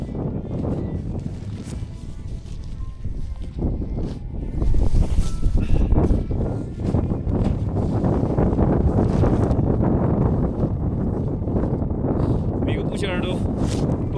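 Strong wind roars across snowy mountains in a steady, loud, buffeting gust, with heavier blasts midway through and a constant rushing hiss throughout.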